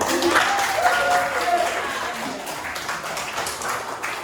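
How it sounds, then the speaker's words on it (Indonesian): A room of people clapping steadily for a few seconds, a dense, even patter of applause with a voice faintly audible early on. "Beri tepuk tangan untuk"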